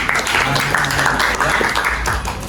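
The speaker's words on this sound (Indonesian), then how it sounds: "Tepuk tangan dulu untuk ketua kelasnya" Loud group clapping from a class for the class leader continues throughout, with voices mixed in beneath the applause.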